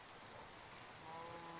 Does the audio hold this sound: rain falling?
yes